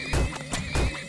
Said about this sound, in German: Dafür kaufe ich mir mal noch ein paar mehr Pferde.